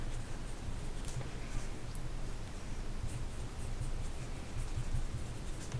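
A fountain pen writes on paper with a steady, close, continuous scratch of nib on the sheet, with no voices.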